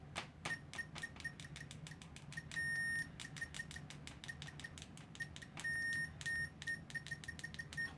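A cheap all-sun EM8910 multimeter on continuity test gives a string of short, sharp beeps and clicks at an uneven rhythm, with a few longer sustained tones. It sounds close but fairly quiet, with no talking.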